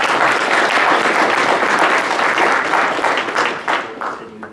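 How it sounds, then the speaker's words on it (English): Loud, dense audience applause fills the room after a software-defined networking conference panel, holding steady and then thinning out toward the end. "So please give them a big applause."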